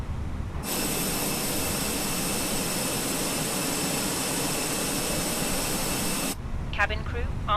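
Jet airliner engine spooling up in a flight simulator for a Jetstar Brisbane to Mackay flight, a loud steady whine and rushing roar held throughout before cutting off near the end, where a voice briefly speaks.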